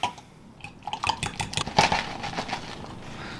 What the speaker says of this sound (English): you're just mixing everything together. Your eggs, your bacon, salt, pepper, and cheese